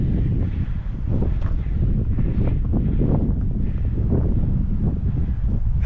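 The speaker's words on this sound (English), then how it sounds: "It's windy up here." Strong wind on a high mountain trail near Montezuma Pass in Arizona blasts across the microphone in a constant, heavy rumble with gusty surges, and nobody speaks.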